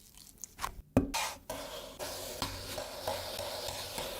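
Potatoes and chicken sautéed in a pan, a soft continuous sizzle with scraping stirs and a couple of sharper knocks near the start, close and fairly quiet with no talk.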